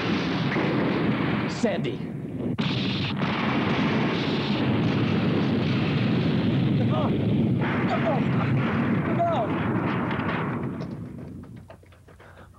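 Dense battle gunfire and artillery-like blasts from a Spectreman TV episode fill the scene nearly without pause, loud and continuous, with shouted voices over the top before fading near the end.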